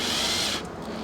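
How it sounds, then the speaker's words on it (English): Cordless drill gun screwing a Japanese gate handle into place, a close, loud grinding whir that cuts off abruptly partway through, leaving a softer mechanical rattle. "I'm going to screw it in"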